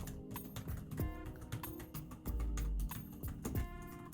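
Typing on a Brydge keyboard for an 11-inch iPad Pro, a run of close, crisp key clicks in an irregular rhythm with a few heavier taps, no talking.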